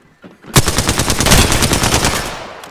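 Rapid automatic gunfire from a weapon in the shooter game Apex Legends, a loud sustained burst of closely spaced shots lasting about two seconds with no talking.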